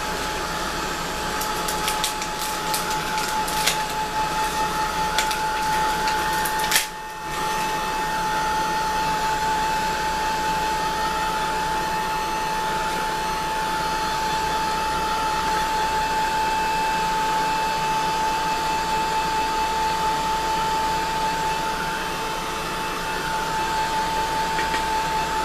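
A hair dryer blows steadily and loudly for a long stretch, drying a mixed-media art journal page, with one brief dip partway through and a few faint clicks near the start.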